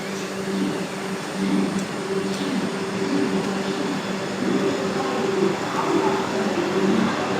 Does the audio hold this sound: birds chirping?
no